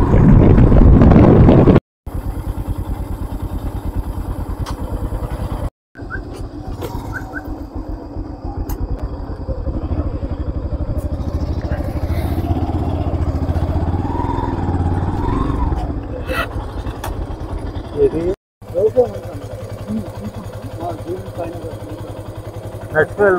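Motorcycles ride along a hilly, foggy winter route toward Lambasingi, with a low, steady engine rumble and wind under frequent talking and a few abrupt breaks.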